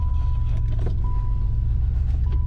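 Electric window motors whir on a 1990 Maserati TC sitting in a junkyard, a thin steady hum running in two stretches over the car's faint background rumble, with small clicks as the switches are pressed.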